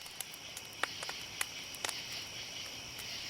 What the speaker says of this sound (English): The sounds of the forest were lively that night, and specifically, the crickets.